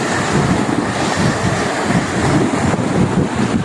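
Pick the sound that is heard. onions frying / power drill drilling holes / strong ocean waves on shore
strong ocean waves on shore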